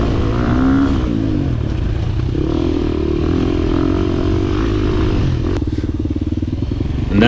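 A 2023 KTM 350 dirt bike races a scramble track on an old washed-out grassy moto section, its engine loud and close, revving and shifting steadily with mechanical clatter.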